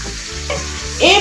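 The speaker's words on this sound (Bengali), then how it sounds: "এপিট ওপিট লাল লাল করে ভেজে তুলে নিলাম" Whole fish sizzling in hot oil, a brief close and loud frying hiss that swells sharply toward the end as pieces hit or shift in the pan.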